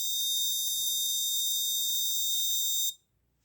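Piercing steady alarm buzzer from an IoT coal mine safety sensor system, a loud continuous high-pitched tone sounding alone for about three seconds before cutting off abruptly into quiet.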